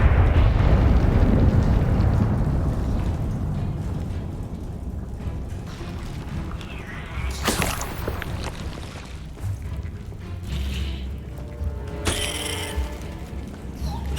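A spell explosion in the video game Hogwarts Legacy goes off as loud booming bursts over a dense rumbling battle din, with sharp blasts at two separate moments.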